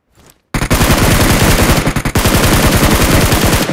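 Loud, rapid shotgun fire in the mobile battle royale game BGMI during competitive tournament play, with dense back-to-back shots that break briefly midway and then continue in a quick volley.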